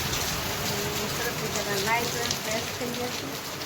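Monsoon rain pouring in Surat, a steady, even hiss of falling water close by, with faint indistinct voices beneath it.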